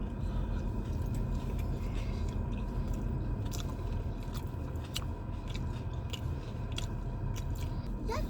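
Someone chews a Sonic Boom Smash Burger close up, with soft wet bites and mastication over a steady background hum.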